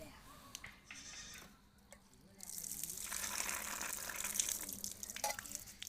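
Tap water runs over spices and fenugreek being washed in a home kitchen: faint scattered sounds at first, then a fuller rushing gush of running water that continues to the end.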